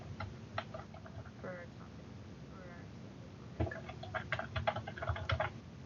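Keys clatter on a computer keyboard as a search phrase is entered, with short bursts of quick taps separated by pauses, fairly close and faint over a low background hum.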